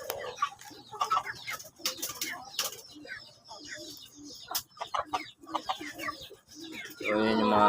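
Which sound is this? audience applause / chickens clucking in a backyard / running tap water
chickens clucking in a backyard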